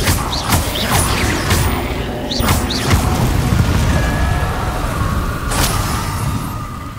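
Confringo fire spell explosions in the video game Hogwarts Legacy, a loud rumbling roar of blasts and crashes with whooshing magical effects layered over a thick low boom, with no voices.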